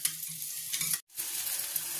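Eggplant slices crackle and sizzle in hot oil, a close, steady frying hiss with faint rhythmic bubbling and one brief break.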